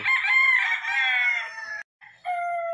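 Roosters crowing at a gamefarm, two long loud stretched crows close by, the first drawn out before a brief pause and a second crow starting, with no talking.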